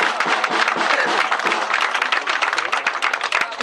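A crowd applauds loudly and steadily at a Fédération Internationale du Tourisme award evening, dense clapping filling the space without a break.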